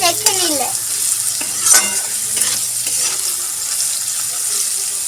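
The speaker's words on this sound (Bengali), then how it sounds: "আলুটা ভালো করে একটু ভেজে নিই" Potatoes fry in a pan with onion and green chili, a steady soft sizzle with a few scraping stirs and clinks near the start, heard close and alone without talk.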